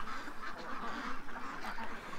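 Ducks quacking on a grass lawn, a steady mix of calls fairly close by with no talking.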